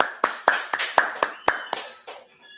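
Sharp, evenly spaced hand claps ring out, about eight of them in a steady beat at a Sabbath service, each with a short echo before fading to quiet.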